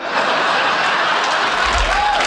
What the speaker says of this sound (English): Those household insect jokes guarantee applause